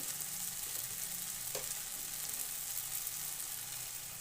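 Ground spices such as turmeric sizzling steadily in hot oil with softened tomato in a pan while an eggplant curry is cooked, a constant close frying hiss with one brief clink midway.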